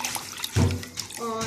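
Water being poured in for tamarind chutney, a splashing, trickling pour that swells in the middle, mixed with someone speaking in a kitchen.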